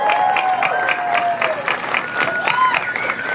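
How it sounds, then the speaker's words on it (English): Crowd applause and cheering at a theme park attraction's grand opening ceremony, with music tones and voices mixed in over the clapping. "Big round of applause for everybody."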